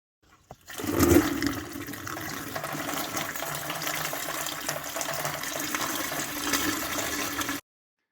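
Coolant drained from a Mercedes 450SEL 6.9 gushes steadily into a bucket after a brief knock, a continuous splashing pour lasting several seconds before cutting off abruptly.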